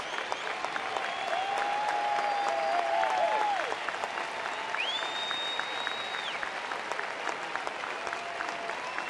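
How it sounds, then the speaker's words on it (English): A baseball crowd at a Kansas City versus Chicago White Sox game applauds pitcher Danks: a steady, distant wash of clapping from a large stadium audience, holding an even level throughout, with faint tonal sounds drifting above it. "And now a big round of applause for Danks."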